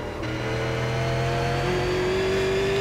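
Super Late Model race car engine at Thompson in the iRacing sim, a steady, close mid-pitched drone with a tone that climbs as the car accelerates, heard alone.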